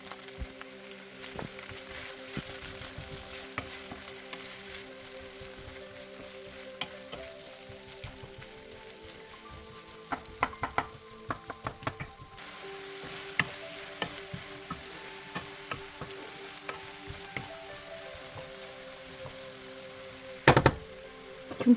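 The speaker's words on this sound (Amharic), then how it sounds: "ስጋውን በጠበስኩበት መጥበሻ ላይ ከትፌ ያዘጋጀሁት ሽንኩርት አለኝ። እሱን ትንሽ ጠብሰዋለሁ።" Chopped onion frying in the same pan used to fry lamb, a low steady sizzle with scattered clicks and taps of stirring throughout, plus a sharper knock near the end.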